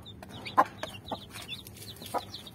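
Chicks and a turkey at feeding time: a run of thin, high peeps with a few louder clucks breaking through, close by, over a low rumble of background noise and no talk.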